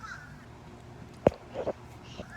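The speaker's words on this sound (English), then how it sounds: "Okay, those birds are annoying me." A crow caws outdoors, a single sharp call followed by a couple of softer caws, fairly distant over a quiet background.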